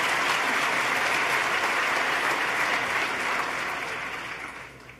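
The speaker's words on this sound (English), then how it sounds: "Let's give her another round of applause because she's a trapper and a muzzle loader" Sustained applause from a large audience at a 2014 state-of-the-state address, dense and steady clapping that fills the space before tapering off near the end.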